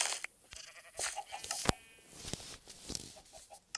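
Sheep in a Minecraft survival game bleating in short repeated calls, several close bleats in quick succession with quiet clicks and game sounds between them, no talking.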